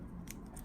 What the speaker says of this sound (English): take my handy dandy scissors